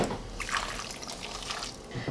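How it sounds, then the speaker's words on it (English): Water is poured into a pan to make keto cranberry sauce, giving a steady close splashing and trickling flow that runs for the whole stretch without any speech. "So I'm going to be putting 3/4 cup of water in."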